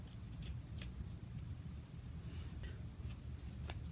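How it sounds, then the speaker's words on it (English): Scissors snip through paper for a craft bookmark, a few sharp isolated cuts spread over a steady low background hum, close and fairly quiet. "Maybe I'll cut off the top of it."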